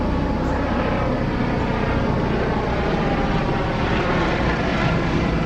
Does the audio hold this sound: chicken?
no